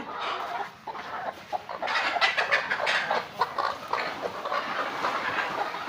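Fayoumi chickens clucking at a poultry farm in Habiganj, Sylhet, where several thousand laying hens are kept; a dense, steady chorus of overlapping clucks and calls fills the clip continuously at moderate distance.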